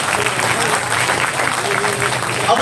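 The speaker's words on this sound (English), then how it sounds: "a round of applause for the finalists" Sustained audience applause for finalists at a college fest final, dense and steady clapping filling the room for a few seconds with a faint voice underneath.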